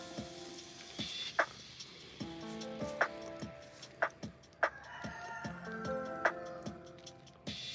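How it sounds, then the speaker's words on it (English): Chickens clucking and calling around a yard, with sharp clicks and a rooster-like crow now and then; several birds at moderate distance. "Try to block out the chickens."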